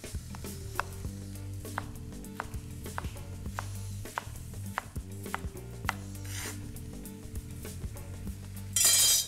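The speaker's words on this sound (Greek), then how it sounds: "Και τα κόβουμε ωραίο μπρινουάζ." A knife dices vegetables into fine brunoise on a cutting board for ratatouille, with rapid, steady close taps over background music and no talking.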